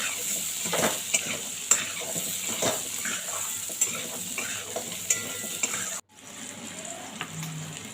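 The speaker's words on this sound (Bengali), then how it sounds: "এরপর নুন হলুদ দিয়ে আলুগুলোকে খুব লাল লাল করে ভেজে নিতে হবে।" Potatoes with salt and turmeric frying in a pan, a continuous close sizzle punctuated by regular scrapes and clinks of a spatula stirring, a short break near the end before the hiss resumes, no voices.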